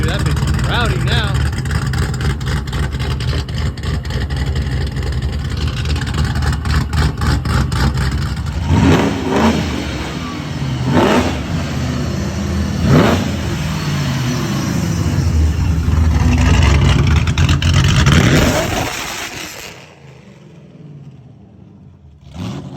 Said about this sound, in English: you gotta test that new exhaust with some donuts